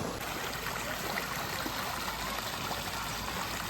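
Floodwater from heavy rain streams past outside a house, carrying debris and stones down from higher ground, as a steady, close, continuous rushing wash with no voices.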